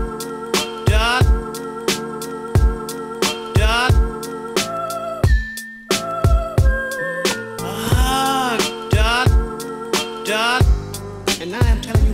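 Instrumental hip-hop remake beat with drums: punchy kicks and snappy snares hit on a steady loop under sampled melodic chords and horn-like stabs, loud and upfront with no voices.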